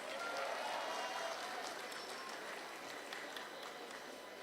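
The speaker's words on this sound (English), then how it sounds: "Please give yourselves a round of applause." Graduates applaud themselves at a university commencement ceremony, a faint, distant and diffuse wash of clapping from a large crowd in a hall, steady and without distinct individual claps.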